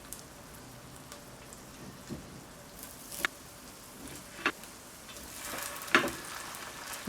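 Crab cake patties fry in a hot pot with a faint, low sizzle broken by scattered pops and crackles that grow a little busier toward the end.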